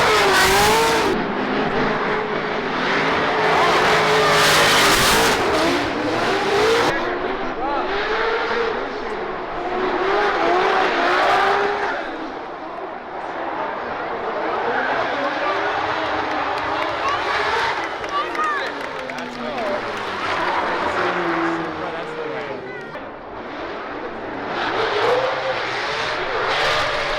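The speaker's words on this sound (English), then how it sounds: "It's a GR Corolla. They're not supposed to be drifting, and here it is." A Toyota GR Corolla drift car at a Formula Drift event, its engine revving hard and warbling in pitch with long tire squeal over loud crowd and track noise, with people talking nearby throughout.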